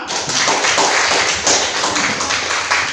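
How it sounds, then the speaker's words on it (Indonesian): Students in an Indonesian classroom clap together, a dense, continuous patter of many hands lasting a few seconds, close and fairly loud. "Sekarang kita berikan aplaus kepada kita semua."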